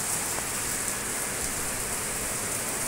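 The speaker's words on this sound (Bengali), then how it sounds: "ভালো বৃষ্টি নেমেছে" Heavy rain pours down outdoors in a steady, dense wash that stays even and close from start to finish, with no voices.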